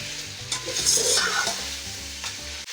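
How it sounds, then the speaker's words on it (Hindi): Cut potato pieces fry in oil in a pan while being stirred for chicken biryani, with a loud close sizzle and distinct scraping stirring strokes and no speech. "अब मैं आलूओं को भी अच्छे से फ्राई करूँगी।"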